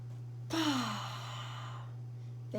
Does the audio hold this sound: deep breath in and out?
yes